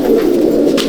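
A champion Andhra breeder pigeon in a loft coos steadily, a low continuous rolling murmur close by, with no voices over it.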